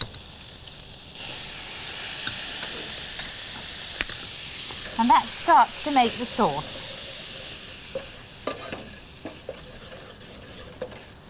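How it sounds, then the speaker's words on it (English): A steady sizzling hiss of meat frying in a pan, with a person briefly speaking over the crackle. "You never notice how much noise frying takes until you actually listen to it."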